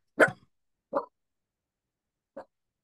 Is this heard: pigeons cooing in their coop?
no